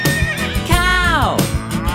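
A horse gives one clear whinny, a rising then falling neigh, over bouncy children's-song music with steady beats.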